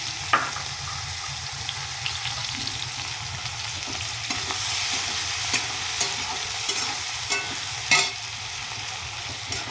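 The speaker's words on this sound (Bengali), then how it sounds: "পেঁয়াজটাকে আমি সুন্দর করে আগে ভেজে নেব" Onions frying in hot oil with whole garam masala spices (cloves, cardamom, cinnamon, cumin seeds) give a steady close sizzle, with occasional scrapes and clicks of a spoon stirring the pan throughout.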